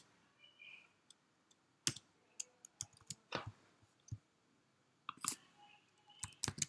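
Typing on a computer keyboard during coding, quiet scattered key clicks arriving in short irregular bursts with pauses between, close and alone without speech.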